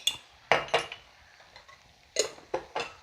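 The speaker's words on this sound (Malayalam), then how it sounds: "നന്നായിട്ടൊന്ന് ഇളക്കാം" Several clinking strikes of a utensil against a pot of cooking cumin chicken, in short bursts with pauses, close and fairly loud.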